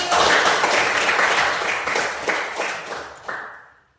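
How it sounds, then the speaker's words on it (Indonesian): A classroom of students applauds a classmate named Peggy, dense clapping that is loud at first and gradually thins and fades out over a few seconds. "Ya, tepuk tangan untuk Peggy."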